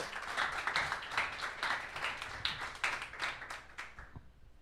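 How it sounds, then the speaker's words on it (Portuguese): A church congregation claps together during a sermon, a dense, steady patter of many hands that carries on at even strength and then fades away near the end. "Aplauda Jesus, vai"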